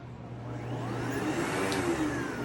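A Sebo Automatic X7 Premium Pet upright vacuum cleaner, commercial version with a heavy duty cord, running steadily with a loud close whirring motor hum that rises slightly and holds.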